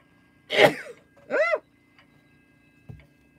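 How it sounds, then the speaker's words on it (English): Two sharp, forceful sneezes in quick succession from a person indoors, close and clear against a quiet background, followed by a faint sniff or small throat noise. "I think this is the worst sneezing jag I've had since I've started broadcasting."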